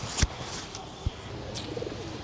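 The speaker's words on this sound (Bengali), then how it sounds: "কবুতরকে খাবার দিতেছে" Pigeons being fed at a home, giving low cooing calls under a steady background, with a couple of sharp thumps and faint voices nearby.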